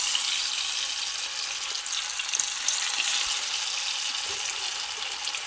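Food deep-frying in coconut oil, a steady bright sizzle of bubbling oil that carries on evenly throughout, fairly quiet and heard on its own.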